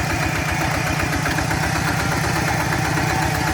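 Tractor engine idling, a steady rhythmic low chugging with a constant mechanical vibration, close and even in level from start to finish.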